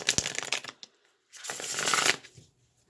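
Tarot cards being shuffled in two close, crisp bursts of riffling and flicking, separated by a brief pause, with no talk.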